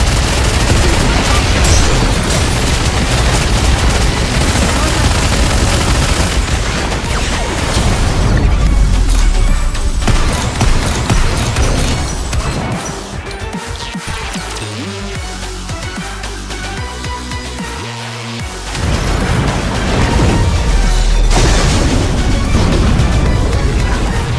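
A gunfire volley in the Nikke video game, dense loud bursts and booms that pound for several seconds, drop briefly to a quieter stretch with music, then surge again.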